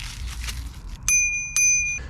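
Two bright, ringing dings from the bell on a VANPOWERS UrbanGlide-Pro electric bike, each strike sharp and close and left to fade, after soft handling noise.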